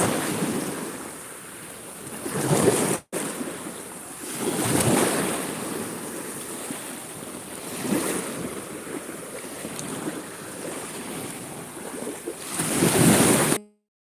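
Sea waves wash onto the shore on a morning beach, a steady broadband surf that swells and recedes in several rolling surges, with wind buffeting the microphone throughout and a brief dropout near the start.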